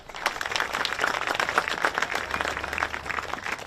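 Crowd applause at a primary school Australian football championship, a continuous dense patter of many hands clapping at moderate distance, filling the whole moment without talk over it.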